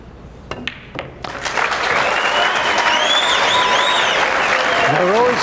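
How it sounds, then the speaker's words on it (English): An audience bursts into sustained applause at a 2001 US Open 9-ball pool match, rising after a few isolated claps into loud dense clapping, with a few whistles on top. "They're always clapping again."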